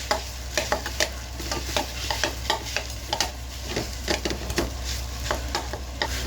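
Cooked rice is crushed and stir-fried in a hot pan, with a steady sizzle under repeated scraping and pressing strokes of a utensil, close and busy in an irregular rhythm.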